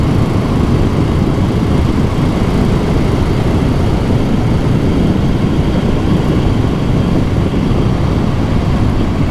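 A BSA Goldstar single-cylinder motorcycle engine runs at high revs, a loud, steady, smooth drone held continuously with no talk over it.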